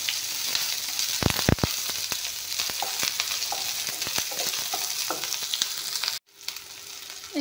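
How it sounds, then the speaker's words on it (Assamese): Onions fry in oil in a pan with five-spice seasoning over lowered heat, a steady close crackling sizzle with stirring scrapes throughout, briefly dropping away near the end before resuming. "পিঁয়াজখিনি অলপমান ভাজি ল'ম।"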